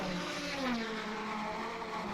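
A Connaught car in a 1950s Grand Prix racing game at Sachsenring gives a continuous, buzzing engine drone with a slight rise in pitch. It sounds fairly loud and steady, with no talk.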